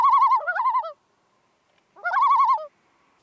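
Great northern divers call from close by on open water, two wavering, yodel-like bursts with a quiet gap between them, clear and loud.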